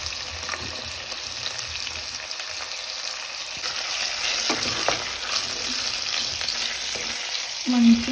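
Tomato rice fries and is stirred in a pan, with a loud, steady sizzle, repeated scraping stir strokes and a louder clatter near the end.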